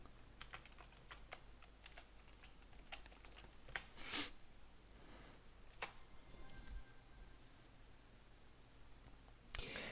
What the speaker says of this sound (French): Ensuite, on tape entrée et on donne le mot de passe.